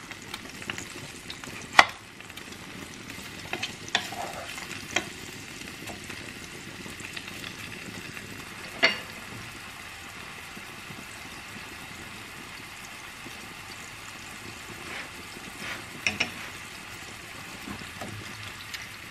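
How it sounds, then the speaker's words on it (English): Steady, faint sizzle of onion frying in a pan, with occasional soft clicks and scrapes of stirring over a continuous crackle. "my onion is sizzling away"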